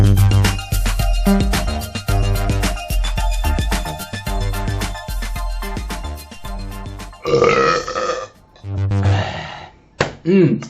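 A loud, close, drawn-out burp rumbles on for several seconds. A few shorter, separate belches follow after brief pauses.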